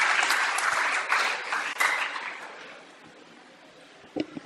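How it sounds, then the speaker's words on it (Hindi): An audience at a mushaira poetry gathering in Pune welcomes a guest poet with dense, loud applause that slowly fades, followed by a few faint thumps at the end. "आप उनका इस्तकबाल तालियों की गूंज में करें।"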